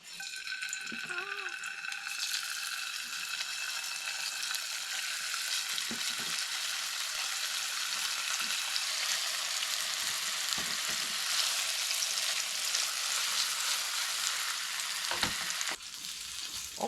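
Vegetables fry in a tilted pan over a campfire at a rainy Ural campsite, a steady broadband sizzle running throughout with occasional soft clicks and scrapes of stirring.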